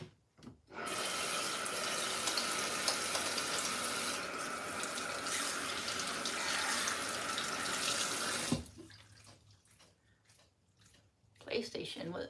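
Kitchen tap running at a sink for handwashing while a tater tot casserole is being made, a loud steady stream of water for about eight seconds that shuts off, followed by quieter clinks and handling noises.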